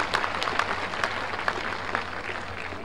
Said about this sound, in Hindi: एक बार तालियों के गड़गड़ाहट से स्वागत